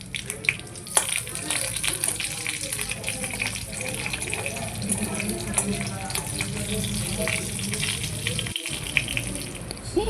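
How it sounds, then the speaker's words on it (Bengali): Cumin, fennel seeds and slit green chillies tempering in hot oil in a wok give off a continuous hissing sizzle, steady and fairly loud, with a brief sharp crackle and a short dropout near the end. "কড়াইতে তেল দিয়ে ভালো জিরে ও মৌরি ফোড়ন দেব এবং কয়েকটা চেরা কাঁচা লঙ্কা দিয়ে দেব এর মধ্যে।"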